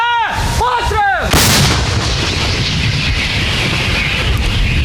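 A D-20 howitzer on a frontline position near Bakhmut fires one loud, close blast with a long rolling decay, just after a sharp shouted command.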